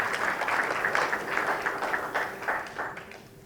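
An audience at a business seminar gives a short round of applause, a moderate wash of clapping from a room full of people that fades out by the end.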